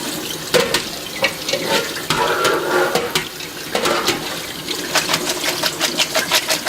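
Tap water running into a kitchen sink as cucumbers are rinsed for old-fashioned mustard pickles, a steady splashing flow with clattering handling sounds throughout, close and fairly loud.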